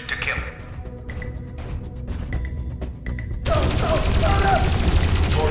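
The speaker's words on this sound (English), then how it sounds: "This is not Briar Rose. Shoot to kill." Gunfire in the Dreamfall Chapters video game: scattered sharp shots and impacts, then a loud, continuous burst of automatic fire, with voices talking underneath.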